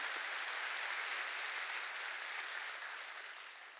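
A church congregation claps during a sermon, a soft, even patter of applause heard from a distance that gradually fades toward the end.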